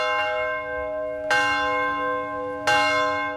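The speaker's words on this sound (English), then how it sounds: "you'll hear this bell ringing at Middletown Christian Church" The single bell of Middletown Christian Church struck three times at an even pace, tolling for COVID-19 victims, each strike ringing out loud and clear and fading slowly into the next.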